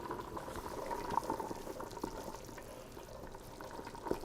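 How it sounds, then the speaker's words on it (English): Pot of butternut squash soup boiling with soft, continuous bubbling and occasional louder pops, heard alone at low volume. "So I feel it is roiling and boiling over here."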